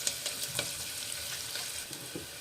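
Chopped onions frying in oil for sambar, a faint, soft sizzle with light stirring clicks and scrapes against the pan, no voices.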